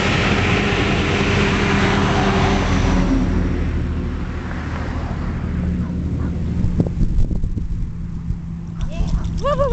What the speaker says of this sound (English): Here comes the truck, Tracy.